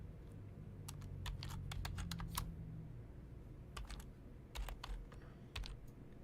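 Quick bursts of typing on a computer keyboard, close and quiet, with clusters of sharp key clicks separated by short pauses over a low steady background hum.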